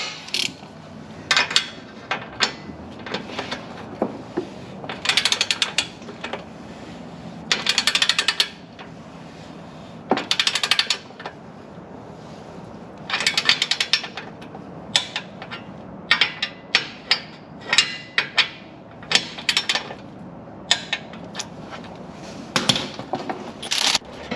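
A torque wrench tightening MagnaFlow Rock Crawler catback exhaust clamps on a four-door JL Jeep Wrangler, its ratchet clicking in rapid bursts with short pauses between, close and crisp with no speech.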